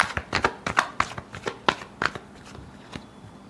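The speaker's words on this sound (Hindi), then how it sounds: "Last shuffle." A deck of tarot cards is shuffled in quick, crisp riffling bursts close up, the rapid snaps thinning out and slowing toward the end.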